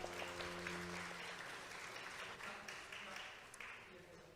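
An audience at a church celebration service for an elder's birthday clapping together, a dense steady applause filling the room, with a voice speaking over it at the start.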